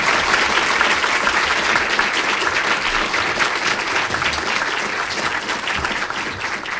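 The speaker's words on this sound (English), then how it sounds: "I'm going to ask you just to give the RSU team an applause" Sustained, loud and dense audience applause at a university research day, even from start to finish with no voices standing out.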